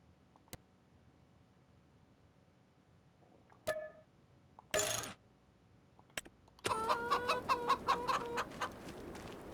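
Chickens and a rooster in the farming game Farming Simulator 25: a few scattered clicks and short clucks, then a loud, near rooster crow rising over busy clucking toward the end.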